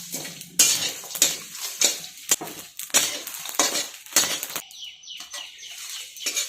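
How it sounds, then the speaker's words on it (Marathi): Whole spices — star anise, green cardamom, caraway, cloves and black pepper — dry-roasting in a pan, with repeated scrapes and metallic clinks of a spoon stirring them, loud and close in irregular bursts. "चक्रीफूल 4, मसाला विलायची 4, शहाजिरं, लवंग, मिरी हे अगदी थोडं थोडं सगळं मी घेतलेलं आहे। आता आपण ते परतून घेऊयात।"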